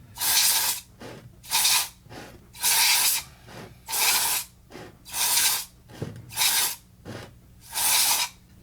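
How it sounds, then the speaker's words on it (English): Electronics cleaner is sprayed onto parts from a John Deere RX95 riding mower under restoration: seven close, loud hissing bursts, each about half a second, separated by short pauses. "Electronics cleaner."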